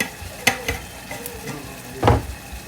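Turmeric powder gets a quick stir into sizzling pepper rasam in a pan, with a soft steady sizzle under a few scraping spoon strokes and one louder stir near the end.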